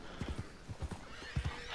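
A few close hoofbeats clopping unevenly in Red Dead Redemption 2, followed by a brief horse neigh toward the end, loud and short.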